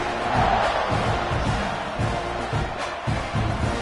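A football stadium crowd roars continuously during a college game's kickoff, loud and dense, with rhythmic pulsing surges and a faint announcer-like voice underneath.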